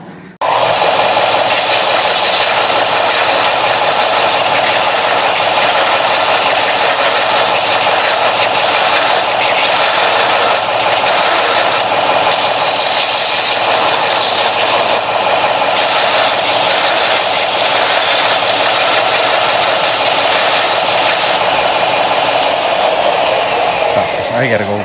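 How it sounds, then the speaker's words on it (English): A belt sander grinding a steel axle saddle for a homemade jack, a loud continuous abrasive roar that holds steady for the whole stretch with little variation. "We're going to go take it to the belt sander."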